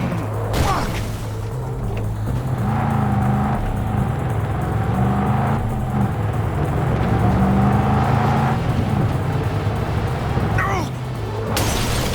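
A car speeding up in the video game Cyberpunk 2077, with a steady engine drone that rises in pitch through the middle and holds loud to the end, a tonal hum underneath and tense voices talking over it.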